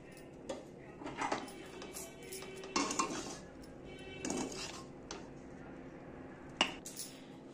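Veg chowmein noodles are tossed with garam masala in a pan, the metal utensil clinking and scraping against it in soft, irregular taps, quiet and close.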